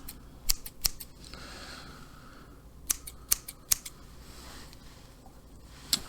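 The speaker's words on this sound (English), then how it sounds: "I think I'm just going to trim both sides here." Scissors trimming hair up close in a quiet room, sharp crisp snips in small bursts, a pair then a cluster of three and a single late cut, each clean and distinct against near silence.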